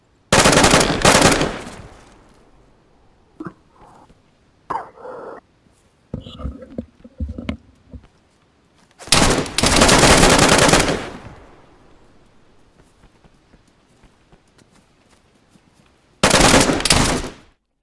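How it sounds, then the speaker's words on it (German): Loud, close bursts of automatic gunfire in the survival game DayZ Standalone, firing through a window: a long burst near the start, a few scattered shots, and two further heavy sustained bursts, with no talk. "wir haben durchs Fenster die ganze Zeit geschossen"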